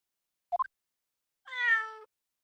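A cat in the Great Ace Attorney Chronicles gives a short chirping trill, then a clear drawn-out meow lasting about half a second, close and alone against silence.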